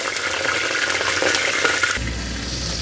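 Potato and cauliflower pieces dropped into hot oil in a pressure cooker, a bright crackling sizzle and spatter that fades into a quieter steady fry after about two seconds.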